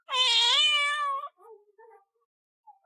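A house cat gives one long, clear, close meow lasting about a second, followed by a few faint, short chirps and small sounds.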